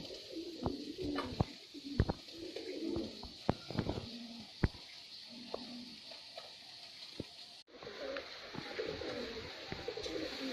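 Pigeons, including a green-eyed kalduma pair, coo softly in the sunlight amid sharp wing flaps and clicks from the loft. Several low cooing phrases repeat against a steady hiss of background noise, with no talking.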